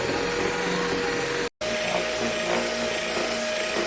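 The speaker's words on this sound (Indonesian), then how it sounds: "Di sini untuk mengaduknya saya menggunakan kecepatan paling rendah." Electric hand mixer running steadily at its lowest speed while stirring cake batter made with fermented cassava, a loud continuous whir with one brief cutout partway through.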